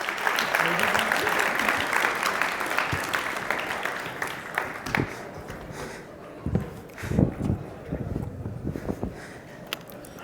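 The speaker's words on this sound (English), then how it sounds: "Let's give our volunteers a round of applause." Applause rings out from an audience for volunteers at a Saudi cultural event hosted by a Utah student association, starting dense and loud, then thinning into scattered claps and bursts under lingering crowd noise.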